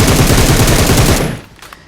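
Rapid automatic gunfire in the mobile game PUBG Mobile rattles loud and continuous for over a second, then cuts off, leaving a few faint distant shots.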